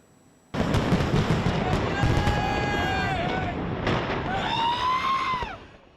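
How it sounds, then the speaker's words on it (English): New Year fireworks display over the River Thames in London at midnight, a sudden burst of loud crackling explosions followed by rising whistles and sustained bangs, with voices mixed into the din. "the new year was welcomed with a fireworks display across the River Thames"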